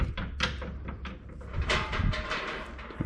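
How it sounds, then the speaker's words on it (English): A door on a BMW E53 slams during front suspension work, heard as a series of sharp knocks and clunks at close range. "my door is slamming."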